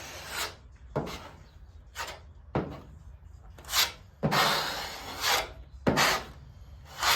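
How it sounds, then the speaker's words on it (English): Lighter grit sandpaper is rubbed over thin body filler on a car panel in repeated back-and-forth strokes, each a short raspy scrape with small pauses between, fairly close and moderately quiet. "we'll just hit it with some lighter grit sandpaper"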